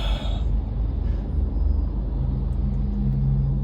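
Car interior on a drive home after boxing training, with a steady low engine and road rumble filling the cabin and a faint hum rising near the end; no talking.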